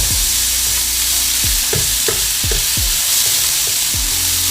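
Light soy sauce hits a hot pan of pork fried rice, giving a loud, continuous sizzle with a busy frying crackle and repeated scraping stirs of a spatula throughout, close and without talk.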